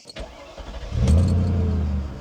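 A V8 car engine rated at 300 hp starts with a short burst and then settles into a loud, steady low rumble that runs to the end, close by with no talk.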